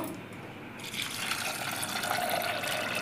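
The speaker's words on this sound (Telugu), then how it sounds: "చలో ఇప్పుడు ఒక పప్పు మునిగే వరకు నీళ్ళు పోసుకో" Water poured over washed lentils to cover them, a steady close gush of liquid that builds after a quieter start and runs on without talk.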